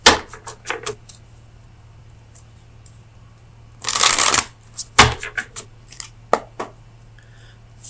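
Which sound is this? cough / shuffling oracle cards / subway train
shuffling oracle cards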